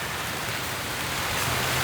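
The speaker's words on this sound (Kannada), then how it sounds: "ಪಾಪ ಮಳೆ ಬರ್ತೈತೆ, ಮುಂದೆ ಹೋಗ್ಬಿಟ್ಟವನೆ." Steady rain falls as a dense, even hiss throughout, with no voices and no change in intensity.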